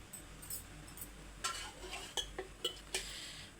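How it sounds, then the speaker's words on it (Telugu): A cooking pan set down on a stove top with a few clear metallic clanks and knocks near the middle and end, over quiet kitchen background while making lemon pulihora from leftover rice. "ప్యాన్ పెట్టుకుంటాను."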